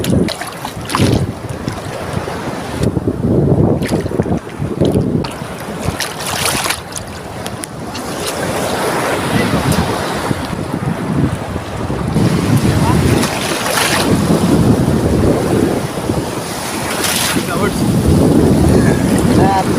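Ocean waves surge and break on a beach while strong wind buffets the microphone with a loud, continuous roar and rumble throughout.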